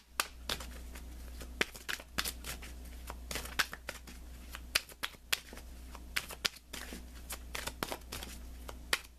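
Tarot cards being shuffled and pulled from the deck, giving a run of crisp snaps, riffles and slaps in an irregular rhythm, close and soft over a steady low hum, with no talking.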